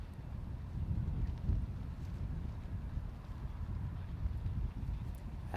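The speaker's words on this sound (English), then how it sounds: "Trying to fight the crosswind." A crosswind blows across an open disc golf course at a professional tournament, a faint, low rumbling buffet that rises and falls gently with no clear voices.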